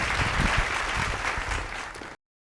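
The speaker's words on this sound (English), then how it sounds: "So please give him a huge round of applause" An audience claps for a spelling bee contestant whose time has run out, a dense round of applause at moderate volume that tapers slightly before cutting off abruptly.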